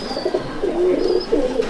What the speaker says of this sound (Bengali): এই দেখুন হোয়াইট কামাগার, হোয়াইট কামাগার জোড়াটা দেখুন